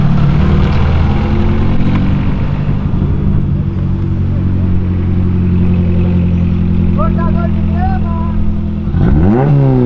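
Volkswagen Jetta with a straight-through exhaust revving loudly and continuously, a deep rumbling engine note rising into a sharp rev near the end, with a voice briefly audible underneath.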